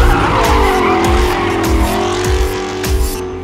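Tires of a Dodge Hellcat screech in a sustained skid, a loud wavering squeal over the engine's roar that carries on for the whole few seconds.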